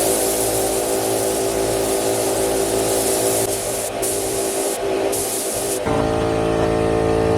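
A spray gun lays another coat of paint onto a chrome bumper of an LS-swapped S10 Blazer, a loud, steady hiss that cuts off twice briefly before a motor-like drone takes over near the end.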